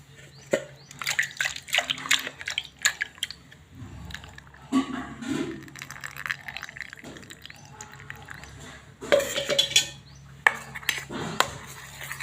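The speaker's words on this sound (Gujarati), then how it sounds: "થોડુંક જગના અંદર પાણી રેડીશું આપણે." Water poured into a jug in a home kitchen, splashing and trickling in short bursts mixed with clinks of utensils and dishes, fairly close and moderately loud.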